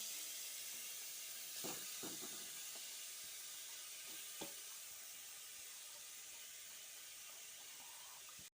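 Grated carrot sautéing in ghee for carrot halwa, a faint, steady hiss with a few soft stirring clicks scattered through it.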